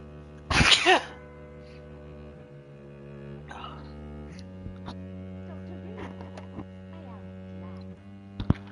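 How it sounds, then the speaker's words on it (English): One loud sneeze erupts near the start, then fades into a steady electrical hum with faint small rustles and clicks. "Sneeze."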